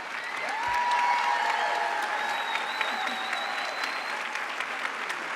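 Audience applause at a 2015 community college commencement, honoring veterans who stand; steady, dense clapping from a large crowd fills the hall throughout, with a faint tonal whine above it.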